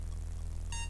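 Electronic beeping from a shuttle being refuelled in the adventure game Space Quest 6, a bright tonal beep standing out near the end of a short stretch over a steady low hum, with no voices.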